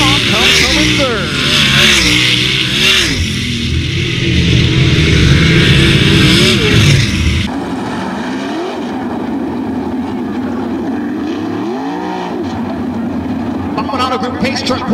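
Sprint cars roar down a dirt track straightaway during heat races, loud engines snarling and revving for several seconds before fading to a more distant drone as an announcer talks over the action.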